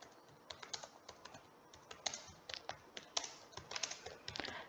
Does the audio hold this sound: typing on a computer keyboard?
yes